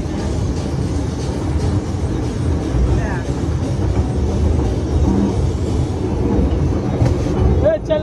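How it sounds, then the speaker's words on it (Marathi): A toy train ride at a waterpark rumbles with a continuous clattering roll, loud and close, while voices and crowd noise from the park mix in around it. "हे आद्या तर गाईस बसले आता ट्रेन मध्ये जुगजुग गाडी"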